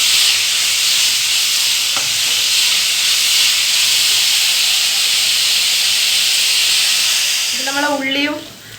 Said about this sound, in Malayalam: ഒരു ഗോൾഡൻ കളർ ആവുന്നത് വരെ നന്നായി ഒന്ന് വഴറ്റി കൊടുക്കുക.